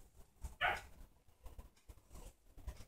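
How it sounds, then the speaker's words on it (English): One short, sharp bark from a puppy, fairly faint and a little distant, amid quiet room noise. "if you heard that, that was one of my puppies"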